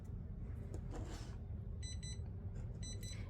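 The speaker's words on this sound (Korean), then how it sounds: "이렇게 부저를 활성화를 시키면 알람 소리와 함께 시간과 내가 선택한 이미지가 뜨게 됩니다." A pixel art display's alarm buzzer sounds in two short bursts of high, rapid electronic beeping, quiet against a low room hum.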